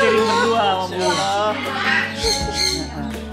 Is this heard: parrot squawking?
yes